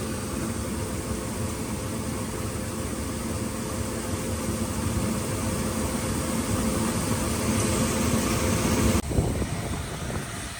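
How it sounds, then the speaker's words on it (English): A mixed flow grain dryer's fan pushes cooling air through drying corn, a steady, loud broadband roar with a low hum, shifting abruptly near the end before continuing. "down here, a fan will push cold air through"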